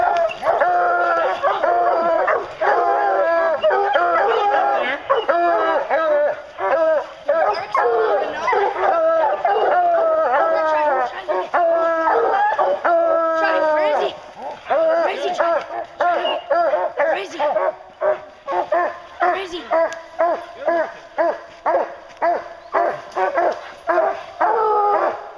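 Hunting hounds on a bear hunt bark and yip in rapid, overlapping bursts, close and loud, with a few whimpering howls, while a handler's voice calls out encouragement in between.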